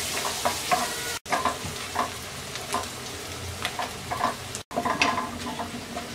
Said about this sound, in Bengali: পেঁয়াজটাকে হালকা ব্রাউন কালার করে ভেজে নেব।